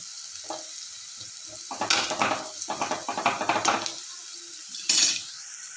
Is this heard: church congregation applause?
no